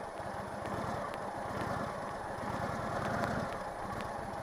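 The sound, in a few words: Indian Chieftain motorcycle engine revving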